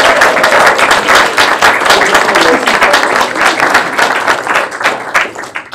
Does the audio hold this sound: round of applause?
yes